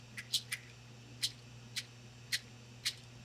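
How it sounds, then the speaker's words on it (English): Hooves strung together act as a percussion rattle, giving a series of six or seven brief, bright clacks at irregular intervals over a faint low hum, with no voices. "Hooves that have been strung together."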